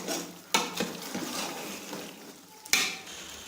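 Beef dum biryani masala sizzles and fries in a pan while being stirred. A steady hiss runs throughout, with sharper scraping clinks near the start and again near the end.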